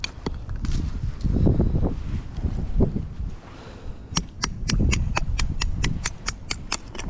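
Gusty wind blows outdoors in wet, rainy weather at a campfire site, with low buffeting rushes rising and falling. A run of sharp, regular clicks ticks through the second half.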